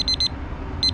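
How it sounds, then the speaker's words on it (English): A leave-in meat thermometer probe, used while grilling a frozen pork tenderloin, beeps in quick, clear, close pulses: a short burst of beeps, a pause, then another burst. "you hear that beeping?"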